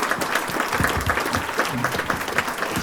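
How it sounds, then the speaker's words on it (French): Steady applause from a crowd at the inauguration of an athletics stadium, dense continuous clapping throughout with a faint murmur of voices underneath. "applaudissements pour Nicole Duclos"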